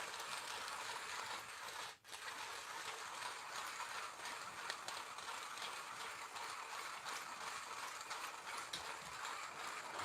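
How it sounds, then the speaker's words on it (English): Coffee beans crunch and rattle steadily in a hand-cranked manual grinder, a continuous close gritty grinding with one brief pause. "Still grinding there a little bit."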